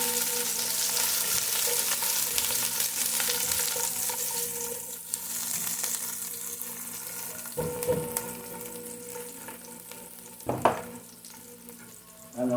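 Crushed garlic sizzles in hot oil with ginger for ginisang monggo, giving a steady, moderately loud frying hiss throughout, broken by a few brief clinks and scrapes of a utensil in the pan.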